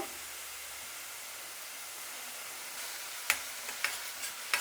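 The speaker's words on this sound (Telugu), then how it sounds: "ఇప్పుడు ఎర్రగడ్డ అనేది బాగా వేగాలండి" Onions with curry leaves frying in a pan for spicy egg curry, a steady near sizzle and hiss, with a few sharp stirring scrapes and clinks toward the end; no talk.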